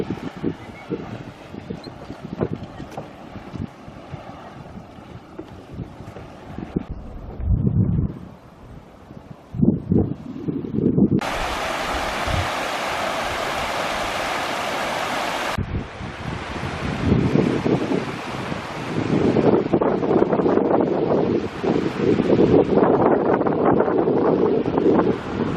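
Gusty wind buffets the microphone beside a steaming Yellowstone geyser, a continuous rough roar that swells and drops in waves over twenty-odd seconds, with faint voices now and then beneath it.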